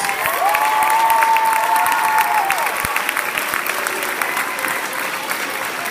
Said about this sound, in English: let's give a round of applause to Miss Holly Smith and all of our drama students.